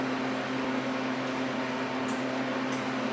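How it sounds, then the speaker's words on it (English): A freeze dryer runs with a steady mechanical whir and hum, a constant, unchanging drone with a low tonal note underneath, close and fairly loud. "Now on the freeze dryer, we're going to hit more dry time."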